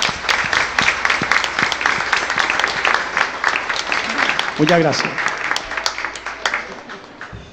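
Applause from the audience at a traditional carnival performance, crisp clapping throughout, with a brief spoken thanks in the middle and the clapping thinning toward the end.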